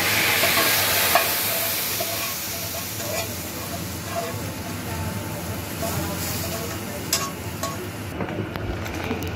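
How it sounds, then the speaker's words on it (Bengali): Spice paste tempering fries and sizzles in a pan as it is stirred into a vegetable curry, giving steady hissing with scraping stir strokes and occasional clinks, close and fairly loud. "তো ফোড়নটা আমি ভালো করে মিশিয়ে নিব"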